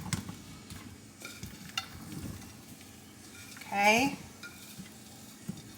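Chopped zucchini tipped into a pan on the stove and pushed around, with soft scraping and clinking of a utensil, a faint sizzle, and one louder clatter near the end; a voice speaks briefly.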